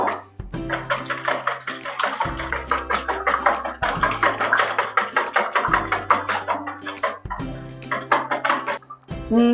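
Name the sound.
mixing dough batter with four eggs in a bowl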